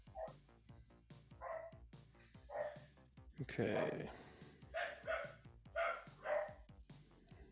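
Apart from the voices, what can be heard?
dogs barking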